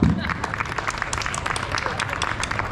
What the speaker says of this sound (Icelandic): Gefum henni gott klapp.